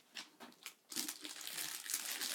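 Christmas present wrapping paper being torn open, soft crinkles at first, then louder continuous crackling and rustling close by, no voices.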